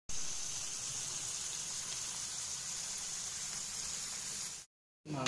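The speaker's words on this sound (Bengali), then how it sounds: "মাংসটা দিয়ে দিয়েছে, তো মশলা আর মাংস একসাথে কষানো হচ্ছে" Chicken and spices sautéing together in a pot give a steady, close hiss and crackle for about four and a half seconds, then break off briefly before resuming.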